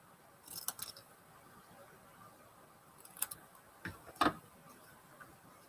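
Scissors snip a small paper flag in a few quiet, separate cuts, short crisp clicks spaced across a few seconds in a still room.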